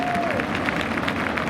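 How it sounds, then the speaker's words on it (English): An audience at the 2018 Paterson Falls Overlook Park opening applauds with steady, dense clapping throughout, mixed with crowd murmur and a faint voice early on. "Give that man a round of applause again."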